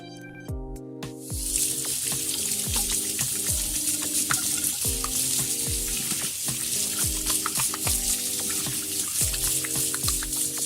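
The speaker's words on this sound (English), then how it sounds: "now I'm going to wash my hands" A running kitchen tap pours steadily while hands are washed, a constant hissing water stream that plays under a rhythmic backing of music.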